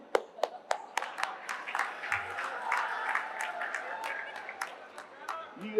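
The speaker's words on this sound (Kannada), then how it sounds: "ಅದಕ್ಕೂ ಚಪ್ಪಾಳೆ ತಟ್ಟದು" Applause and clapping from a crowd at a political speech by a Karnataka chief minister, a sustained patter of hands with sharp individual claps at the start, fairly distant and moderate in volume.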